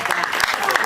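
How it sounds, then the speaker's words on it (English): Comedy show audience applauding the president-elect of the Federal Republic of Nigeria, a brief dense wash of clapping from a crowd, loud and close. "Ladies and gentlemen, a round of applause for the president-elect"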